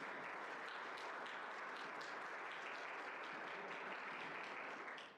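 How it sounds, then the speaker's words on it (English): A public health talk audience offers steady, even applause, a dense wash of clapping that stays constant before tapering off at the end, faint in level. "Round of applause."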